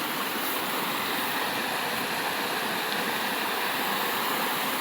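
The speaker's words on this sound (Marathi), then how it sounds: "मस्तपैकी वाहतोय ओढा" A hillside stream running down from the slopes, its muddy water giving a steady, dense rushing wash close by with no breaks.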